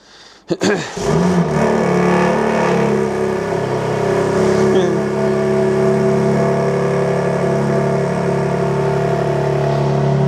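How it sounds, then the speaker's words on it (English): A BMW G82 M4 with a modified exhaust fires up on a cold start: a sharp crank and bark, then a loud, steady, rumbling high idle close by. "This is going to be a cold start, so let's see if this is really, really rowdy or not."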